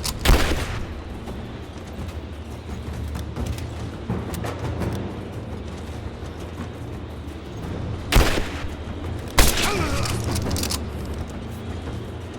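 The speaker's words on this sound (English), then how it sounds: "I'm under fire!" Gunfire in Rise of the Tomb Raider during the Baba Yaga DLC: a few sharp, loud shots and bursts break out at intervals over a low, rumbling background, with a heavier cluster of blasts toward the end.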